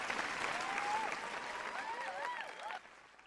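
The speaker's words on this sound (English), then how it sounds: "Huge round of applause for all of our amazing finalists." Applause for award finalists at a company awards event, a dense wash of many hands clapping with whoops and cheers rising over it, then thinning out near the end.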